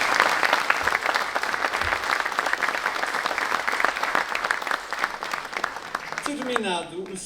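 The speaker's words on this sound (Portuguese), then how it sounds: "Uma salva de palmas para o nosso pai." A theatre audience at Teatro Faialense bursts into loud, sustained clapping that fills the hall, then fades as a voice begins speaking near the end.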